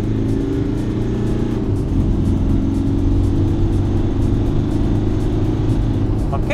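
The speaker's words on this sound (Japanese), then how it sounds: "さあまずはね加速してみたいと思います。" Inside a new Nissan Caravan diesel van on a test drive, the engine rumbles steadily as it accelerates, a continuous low cabin drone that swells slightly partway through.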